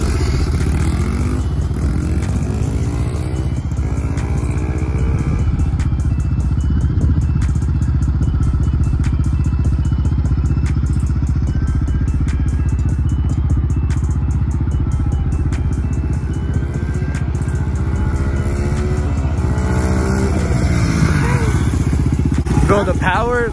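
A Honda XR100 dirt bike engine buzzes and revs hard during a wheelie attempt, continuous and close with rising pitch sweeps, plus some clatter and voices talking over it.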